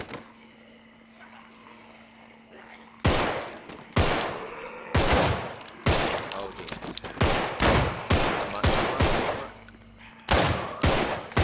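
Loud video game gunfire in Contagion, with repeated bursts and single shots starting a few seconds in after a quiet stretch, each crack sharp and close, continuing in an irregular rhythm.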